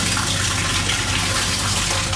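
Water rushes steadily into an industrial dye pot from a tap, a loud, close, continuous gushing fill with no pauses or voices.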